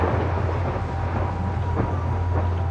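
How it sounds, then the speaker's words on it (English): Thunderstorm in the horror video game Kraven Manor: a loud, steady low rumble of rolling thunder with rain-like noise above it, continuous throughout, no talking. "these thunderstorms are really loud"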